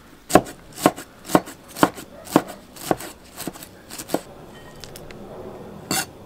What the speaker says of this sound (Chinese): 不要切得太细了，香菜。